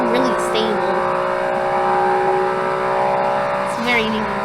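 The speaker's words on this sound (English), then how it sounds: "It's very unique exhaust." Steady revving exhaust drone of a 2000cc track car in the video game Automation, a sustained engine tone with slight pitch shifts, heard under someone talking.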